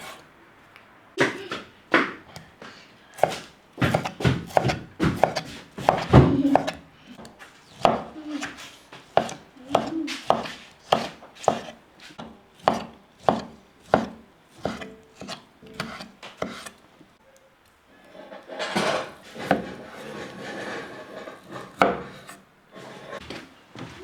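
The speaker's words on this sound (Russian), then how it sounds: "И вот сейчас вот так тоненько-тоненько нарезаю." A knife slices thinly through peeled kiwi on a board, a string of sharp, close taps coming in quick irregular bursts, with a pause and then a scraping gather of the slices near the end.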